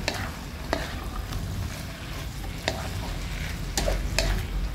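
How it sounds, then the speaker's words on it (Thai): Chinese kale and crispy pork being stir-fried in a pan, with a steady sizzle under scattered sharp scrapes and clacks of a utensil against the pan, close and alone without voices. "แล้วก็ผัดไปเลยค่ะ ผัดให้คะน้าสุกเลยนะคะ"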